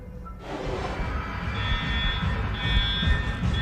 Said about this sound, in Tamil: என்னடா அலாரம்லாம் அடிக்குது?